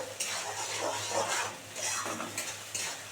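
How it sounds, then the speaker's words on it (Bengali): Masala for egg malai curry, with onion in it, is stirred and fried in a pan. It makes a steady, close sizzle with scraping strokes and light clinks of the utensil against the pan. "এটা দু মিনিট ধরে ভালো করে কষাবো"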